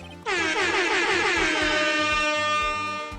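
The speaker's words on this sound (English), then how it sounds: "Oh, wait, I got an air horn" A loud, blaring air horn kicks in abruptly and holds one long, brassy note for about three seconds during Phoenix Wright: Ace Attorney Trilogy gameplay.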